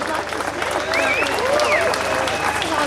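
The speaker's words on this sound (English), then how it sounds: "a massive cheer for Rose" A dense outdoor crowd at a miners' solidarity rally claps and cheers steadily, with whistles and shouts rising over the applause throughout.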